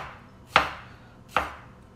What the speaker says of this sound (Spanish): El tomatillo también vamos a estarlo picando en rodajas.